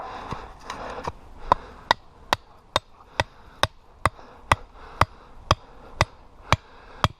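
A hammer driving a metal spike into the ground outdoors: about fourteen sharp, ringing strikes at a steady, slightly quickening pace, close and loud, with some quiet shuffling between blows.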